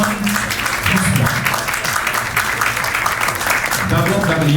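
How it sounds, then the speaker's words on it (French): An audience at a birthday celebration in Port-au-Prince applauds for an honoree, a thick wash of clapping at close range with voices and crowd noise mixed in throughout. "Vos acclamations à l'intention de Wilson François"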